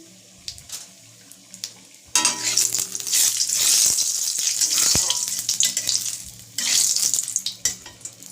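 Tempering spices for Gobindobhog rice khichuri fry in a pan; a quiet start gives way to loud, close sizzling and crackling with scraping, a brief lull, then another burst of frying, with no talking.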